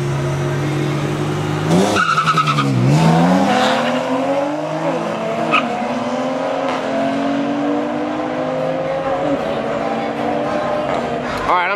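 At a drag strip, a race car's engine revs hard and then climbs in pitch as it launches and accelerates, with a brief tire squeal and a loud, rising roar that stays strong throughout.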